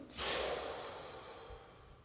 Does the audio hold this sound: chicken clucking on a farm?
no